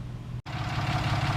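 A 2013 Ram 3500 pickup with a Flow Pro delete exhaust idles low and steady, a deep rumbling drone close to the tailpipe after a brief cut.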